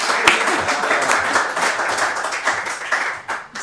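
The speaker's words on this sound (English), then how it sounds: "Give applause to Julie." An audience at a European wool conference gives a speaker sustained, loud applause, a dense continuous patter of many hands that fades slightly near the end.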